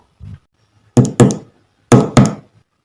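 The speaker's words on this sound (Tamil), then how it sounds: "கதவை தட்டுவோம்." Knuckles rap on a door in two pairs of firm, close knocks with a pause between, preceded by a softer single tap, with no voices present.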